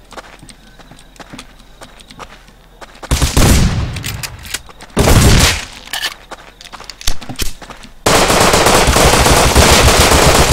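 Gunfire from the video game Rust: bursts of automatic fire and sharp shots, some distant and some close and loud, then a sustained dense barrage at the end.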